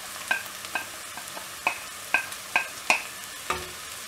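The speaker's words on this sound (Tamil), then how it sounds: "வெங்காயம் வதங்கிட்டு இருக்கும்போதே நம்ம இதில் பூண்டு ஆட் பண்ணிடலாம்." Onions frying in oil in a pan for a dried-fish curry, a steady soft sizzle punctuated by about eight sharp, evenly spaced spoon taps and scrapes against the pan, close by and alone without speech.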